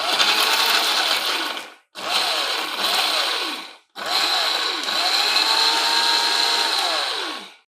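A mixer grinder whirs loudly, grinding fresh coconut, chillies, tamarind and salt into a dry chutney powder in three bursts, with the motor cutting out briefly between runs and its pitch dipping as each run winds down.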